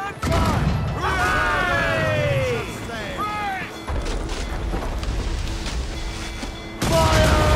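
Naval battle aboard a sailing warship in Assassin's Creed Rogue, with loud booming cannon volleys and crashing impacts under crew shouts and singing voices, the barrage thinning midway before a fresh loud burst near the end.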